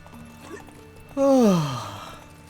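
Roach the horse from The Witcher 3 lets out a single loud, drawn-out whinny that falls in pitch and fades, heard alone over quiet game ambience with no talk.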